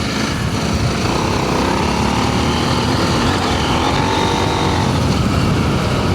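A KTM 890 motorcycle riding on loose gravel, its engine droning loud and steady close by with a rough, continuous roar and no letup throughout.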